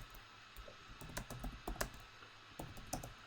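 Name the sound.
typing on a computer keyboard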